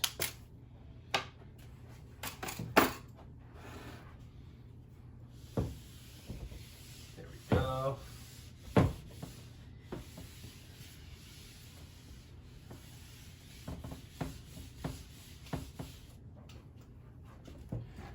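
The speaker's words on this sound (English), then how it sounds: "I'm going to erase." Eraser or cloth rubbing across a classroom board in intermittent scrubbing strokes, fairly close and moderately loud, with brief knocks and pauses between passes over a steady low room hum.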